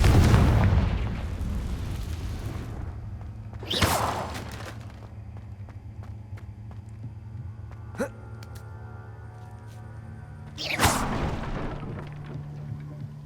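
A Confringo spell blasts in the Hogwarts Legacy video game, its fiery explosion booming loudly at the start, with further sharp bursts and whooshing impacts following over a low rumbling background.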